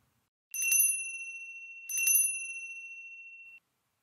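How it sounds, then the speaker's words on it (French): Two bright metallic rings of a small bell, like a bicycle bell, each struck once and left to ring out clearly against silence. "une cloche."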